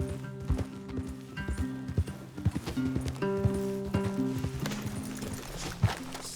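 Horses in Red Dead Redemption 2 clip-clopping at a walk, irregular close hoofbeats throughout, with a steady musical drone and brief talk underneath.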